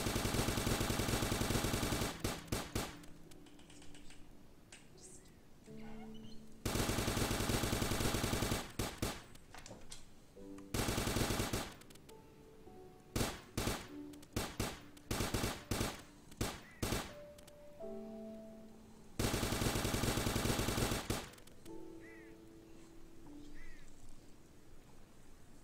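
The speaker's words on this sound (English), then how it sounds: "Wow, I can definitely hear the fireworks now." New Year's fireworks crackle outside in loud rapid bursts, dense popping volleys separated by pauses, with short tonal electronic beeps between them.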